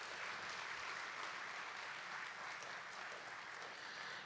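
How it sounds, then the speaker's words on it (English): Steady audience applause at a high school spring band concert, a dense continuous wash of many hands clapping in a hall, alone without talk. "let's give him another round of applause for all his hard work."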